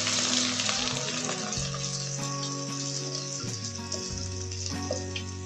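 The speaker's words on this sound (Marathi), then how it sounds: "आलंच थोडंसं परतून लालसर परतून झाल्यावर" Grated ginger sautés in a pan while making sattvic khichdi, producing a steady close sizzle and hiss over sustained background tones.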